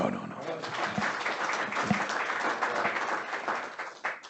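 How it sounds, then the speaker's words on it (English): A crowd applauds steadily, a dense wash of clapping from many hands that fades slightly toward the end. "One more round of applause."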